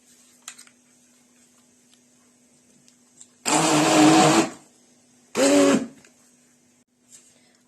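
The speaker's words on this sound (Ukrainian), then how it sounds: "І зараз ми будемо перемішувати блендером." Two loud bursts of an electric blender whirring through cherry cheesecake filling, the first about two seconds long, the second shorter, with quiet background hum between them.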